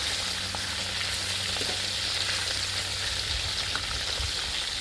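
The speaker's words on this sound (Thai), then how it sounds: "วิธีการทอดให้นุ่มอ่ะต้องทอดแบบนี้นะครับ ปิดฝาไว้อบให้ข้างในมันสุก" Pork frying in a covered pan to cook it soft and tender, giving a steady, dense sizzle and crackle that runs continuously throughout with no voices.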